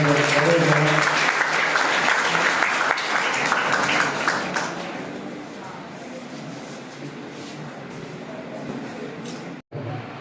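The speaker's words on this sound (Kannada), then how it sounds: "ಎಲ್ಲರೂ ಜೋರಾಗಿ ಚಪ್ಪಾಳೆ ಮಾತಾಡಬೇಕು" Audience at a college NSS event breaking into loud, sustained applause that gradually thins and fades to a softer scattered clapping over about ten seconds, with some murmuring talk underneath.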